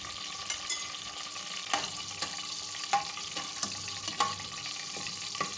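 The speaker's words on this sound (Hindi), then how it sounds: "ऑयल गरम हो गया है, इसमें सबसे पहले हम साबुत मिर्च डालेंगे।" Whole chillies frying in hot oil for an aloo qeema, a steady crackling sizzle with scattered sharper pops and spits, close and continuous throughout with no voices.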